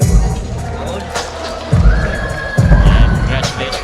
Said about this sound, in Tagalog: And the crowd here in Bohol.